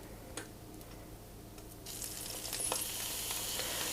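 Cloud pancake batter frying in a covered pan on a stovetop set to level 3, a faint steady sizzle that brightens and grows louder halfway through, with a few light ticks and clicks.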